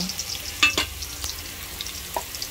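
Chopped garlic hits a hot pan for a chicken-in-tomato dish, giving a faint, steady sizzle broken by a couple of brief stirring clinks, with no voices.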